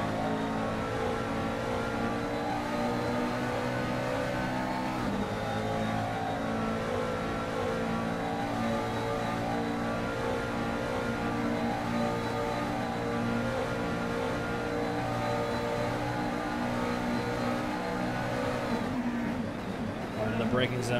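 GT3 race cars, a Ferrari and a McLaren, scream along a straight at Spa in the Assetto Corsa racing game, with a loud, sustained high-revving engine drone and a gear shift near the end, under steady commentator speech.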